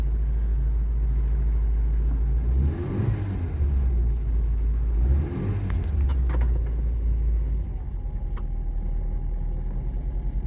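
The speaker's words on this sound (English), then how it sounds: "I start her up, right? Hang on, right, start her up. And she hunts when I press the accelerator" A classic car engine idles with a low rumble and is revved twice with the accelerator, each swell rising and falling briefly, then a few faint clicks and a thin hum as it settles, heard close with no talking.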